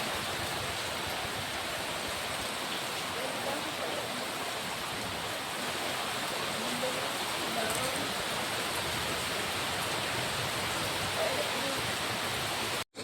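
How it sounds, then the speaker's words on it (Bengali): Heavy rain pours down in a steady, dense roar, a broad hiss that holds unbroken and loud throughout before cutting off abruptly at the very end. "তারপরেই হঠাৎ করে শুরু হয়ে গেল ঝমঝম করে বৃষ্টি"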